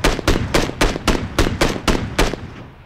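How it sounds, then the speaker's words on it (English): Gunfire in the battle-royale video game PUBG: eight evenly spaced heavy shots crack out in a steady rhythm, loud and close, each with a short decaying tail, with no voices over it. "There's a lot of gunfire"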